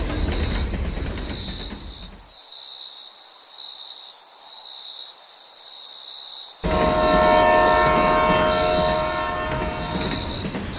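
A train pulls into an empty village railway station late at night, its loud rumble fading into a quiet gap before a dense chorus of crickets takes over.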